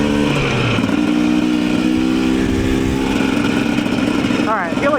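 A Husqvarna-style TE300 dirt bike engine on a break-in ride: a loud, close, steady engine drone with a strong harmonic buzz and slight pitch shifts, holding throughout and easing near the end.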